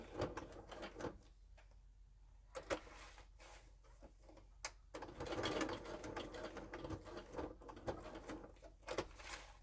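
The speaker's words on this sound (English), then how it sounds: "The feathers take a while to sew down, but it's not a huge deal." A sewing machine stitching down feathers on a costume runs in faint, uneven bursts of rapid mechanical ticking, stopping and starting with short pauses between runs.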